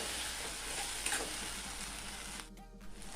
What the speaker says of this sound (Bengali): আদা, টমেটো, কাঁচা লঙ্কা পেঁয়াজের সাথে খুব ভালোভাবে কষিয়ে নিয়েছি।